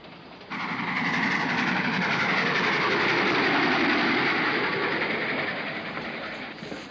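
A train runs on rails with a steady loud rumble and rhythmic clatter that swells in after a quieter opening and fades slightly near the end, with no voices.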